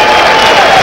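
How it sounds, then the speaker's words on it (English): Fans at Austin Stadium applaud an injured Oregon player leaving the field during a 1984 college football game against Washington State, a steady, dense wash of clapping and crowd noise throughout. "And gets a nice round of applause from the fans here at Austin Stadium"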